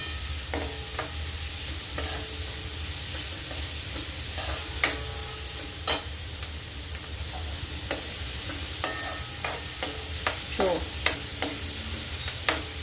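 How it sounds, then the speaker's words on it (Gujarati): Pizza toppings sautéing in a home kitchen pan, a steady sizzle running throughout with a string of sharp spatula scrapes and clinks against the pan at irregular intervals, close and moderately loud, no talking. "અને હું પહેલાં સાતળી લઈશ, થોડી ઘણી ચડી જાય."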